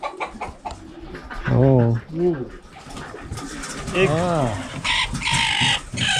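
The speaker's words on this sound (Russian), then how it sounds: "Чикен, курица, петушки." Chickens and roosters in a henhouse give loud, close clucking and drawn-out throaty calls in a few bursts over steady barnyard background noise, and a person briefly speaks.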